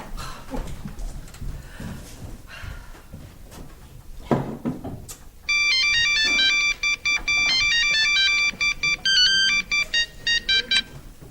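An electronic phone ringtone bursts in loud and clear halfway through a French stage play, chirping in a rapid repeating melodic pattern after quieter stage movement and shuffling.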